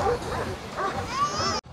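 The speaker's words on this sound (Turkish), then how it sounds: "İstemediğiniz kadar köpek var arkadaşlar burada." Several dogs bark and yip in quick bursts at a crowded dog show, close by and fairly loud, with a busy hall murmur underneath.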